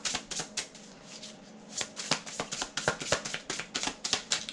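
Tarot cards being shuffled by hand, a rapid run of crisp riffling flicks and soft card slaps that continues steadily throughout, close by with no talking.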